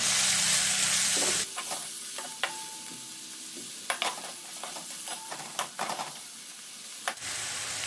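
Turmeric, coriander powder and chili powder sautéing in hot oil for a village-style capsicum dish, a steady sizzle broken by repeated scraping and stirring knocks of a spoon in the pan, with a louder continuous hiss at the start and end.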